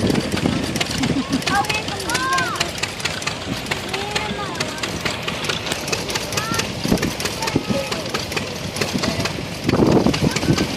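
A 1934 McCormick WK-40 tractor running during a power parade, a steady low engine rumble with intermittent mechanical clatter, heard underneath almost constant speech from an announcer.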